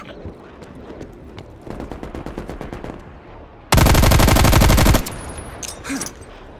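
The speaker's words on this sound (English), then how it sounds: "Hostile sentry turret active." A sentry turret in Call of Duty fires a sustained loud burst of rapid automatic gunfire lasting about a second, set among quieter scattered game shots and effects.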